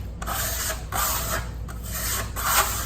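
A steel trowel rubs a sandy marmorino plaster base coat in circular strokes, a steady gritty scraping that swells and eases in repeated passes, close and continuous with no talk.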